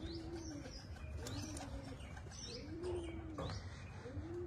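Pigeons kept by a fancier coo in repeated soft, rising-and-falling calls, mixed with small chirps against a quiet, low background, with no voices.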